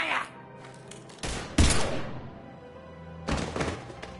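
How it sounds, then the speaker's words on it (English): Gunfire erupts in Mass Effect Legendary Edition, loud heavy shots landing in three separate bursts across a few seconds, close and mixed with faint in-game sounds. "Now open fire!"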